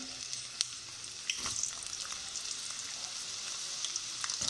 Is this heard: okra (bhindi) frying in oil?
yes